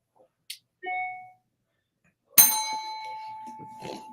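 A notification bell sound effect: a couple of short soft tones, then a bright ringing ding with a clanging attack that sustains and slowly decays, alone and fairly clear.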